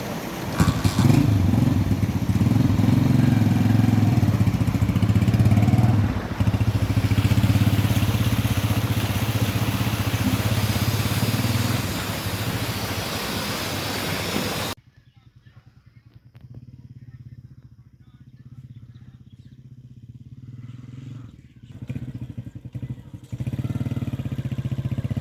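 A scooter engine runs loudly with a rough, continuous mid-pitched drone, then drops away to quieter rumbling and idling with clatter, while people talk.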